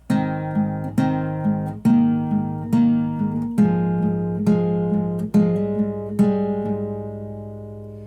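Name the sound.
acoustic guitar playing verse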